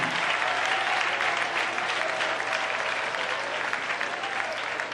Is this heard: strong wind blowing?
no